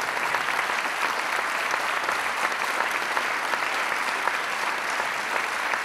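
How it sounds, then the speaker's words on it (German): A large hall audience at a festive evening event in Bonn applauds a comedian, a steady, even wash of many hands clapping from a distance without pause. "Sein Applaus."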